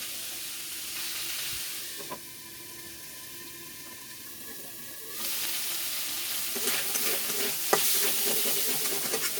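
Small taki fish fry in a pan with a steady, soft sizzle, growing louder midway, with occasional stirring scrapes.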